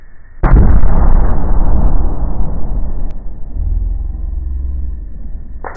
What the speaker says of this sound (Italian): Adesso esplode,